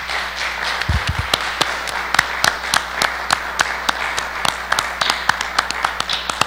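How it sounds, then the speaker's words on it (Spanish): A small audience claps to close a Spanish-language lecture on the Bible's relevance today: scattered, uneven hand claps ring out over a steady room hiss, with a few low thumps near the start. "Cerramos esta conferencia con un fuerte aplauso."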